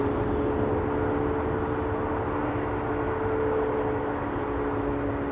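A KLM Embraer 190 jet departs for Zurich from Amsterdam Schiphol, producing a steady engine roar with a low droning tonal hum at middle distance, continuous and unbroken, with no one speaking.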